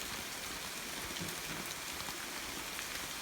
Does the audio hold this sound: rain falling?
yes